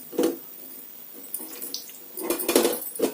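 Cut bitter gourd pieces being washed in a bowl of water, with sloshing water and clinking of a metal vessel in a few bursts near the start and end, close up with no voices.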